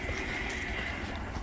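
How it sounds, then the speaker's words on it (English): Horses on a farm in interior Alaska, whinnying faintly over a steady outdoor background, brief and somewhat distant with no talk. "and hear all the horses."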